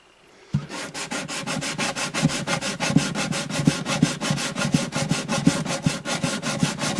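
Steady back-and-forth light sanding on a rosewood guitar bridge, a close rhythmic rasping scrub repeating about four times a second, with no talking.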